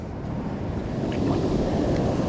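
An ocean wave washes in while a caught salmon is released from a beach, a steady loud roar of surf and water mixed with wind buffeting the microphone, with no talk.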